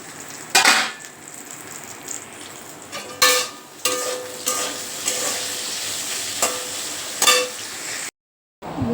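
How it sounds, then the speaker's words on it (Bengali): Okra fries in a wok with a low, steady sizzle, broken by several sharp clinks and scrapes of a utensil against the pan, then a brief silence at the end. "এদিকে ভেন্ডি ভাজা কড়াইতে দিয়ে দিয়েছি, ভেন্ডিটা ভাজা হচ্ছে"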